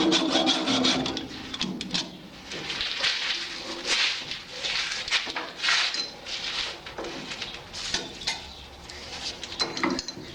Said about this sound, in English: I'm just going to go ahead and take this off with the hacksaw